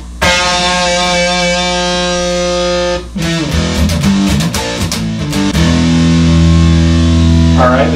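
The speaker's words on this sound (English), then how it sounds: "Now we're going to crank up the guitar." An electric guitar through a homemade distortion pedal rings out with sustained, fuzzy chords, then switches to choppy, chugging strums before settling into another loud held chord.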